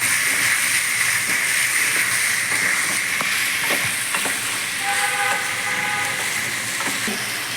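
Ingredients for ghugni fry in a pan with salt and turmeric added, giving a steady broadband sizzle throughout with occasional scraping and stirring clicks and a brief faint tonal clatter near the end.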